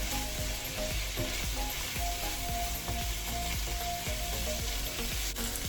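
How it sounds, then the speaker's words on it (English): Food searing in a hot pan for a homemade Saito-inspired dinner, a loud, steady sizzle and crackle that fills the whole stretch without letup, with faint rhythmic scraping beneath. "I want it seared to the pan so it has some color."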